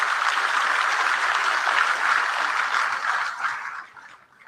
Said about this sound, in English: Give a big applause for our SRM team.